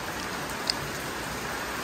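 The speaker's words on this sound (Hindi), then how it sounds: "बारिश होगी स्टार्ट।" Rain starting to fall in the mountains of Nepal, a steady, even hiss of drops on surfaces throughout, moderately close, with one brief tap partway through and no talk.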